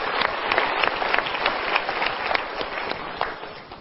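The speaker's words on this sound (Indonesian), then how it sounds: "Kita berikan tepuk tangan dulu." A studio audience at an Indonesian motivational talk show applauds steadily throughout, dense clapping close and continuous, tapering slightly at the end.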